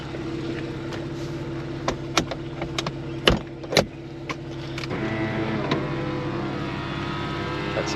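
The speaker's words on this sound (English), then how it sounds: "Just put the hood down." Electric convertible roof of a Porsche Boxster S 987.2 lowering, with a steady motor whir punctuated by several mechanical clunks and latch thumps, then the motor hum continues near and clear with no talking.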